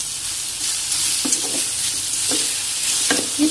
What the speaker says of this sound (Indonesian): Kita tumis sampai berubah warnanya menjadi agak hitam.